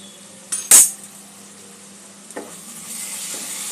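Spiced masala for a chickpea chole curry sizzles faintly in a pan, with a sharp utensil clank early on and a couple of softer scrapes as it is stirred.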